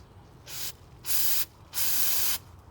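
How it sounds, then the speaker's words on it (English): Carburettor cleaner sprayed onto a plastic Briggs and Stratton lawn mower carburettor, three close aerosol bursts, the first short and the next two long and loud, with quiet pauses between. "I got a carby clean and degreaser, and I will spray it."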